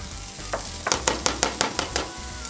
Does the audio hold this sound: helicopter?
no